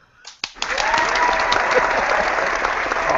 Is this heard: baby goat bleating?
no